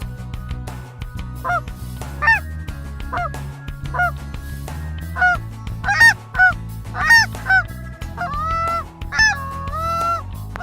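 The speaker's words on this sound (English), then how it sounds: "We had a nice group of Canada geese come in" Several Canada geese honk repeatedly nearby in Alberta, overlapping calls rising and falling over a low outdoor rumble.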